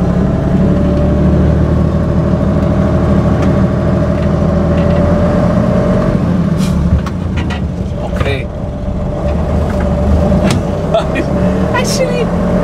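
A Mercedes-Benz Unimog engine drones steadily while the truck is driven and shifted up through the gears, a loud continuous low rumble with a brief dip near the middle, as people talk over it.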